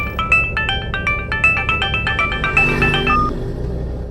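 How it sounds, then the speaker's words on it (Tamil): A phone ringtone plays a loud, repeated electronic melody of bright tonal beeps for about three seconds before stopping. "ஃபோன்"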